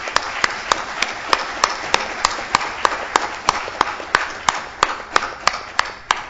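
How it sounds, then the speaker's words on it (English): Steady, evenly spaced claps ring out at a staff appreciation gathering, sharp and regular over a soft background hum for the whole stretch. "A loud round of applause,"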